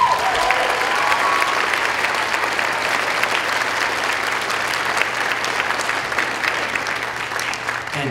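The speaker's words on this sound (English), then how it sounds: "Please give them a round of applause." Sustained, dense applause from a large audience at a middle school holiday band concert, steady and full throughout with no speech over it.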